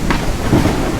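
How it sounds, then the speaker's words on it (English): Loud rain and a deep rumble of thunder from the video game Evil Mountains, a brief dense wash of storm noise. "Raining."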